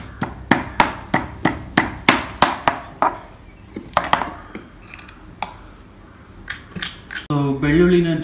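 Garlic cloves being crushed for a home weight-loss remedy, a run of about ten sharp, evenly spaced pounding knocks up close, then scattered lighter taps and handling noise, with a brief voice near the end.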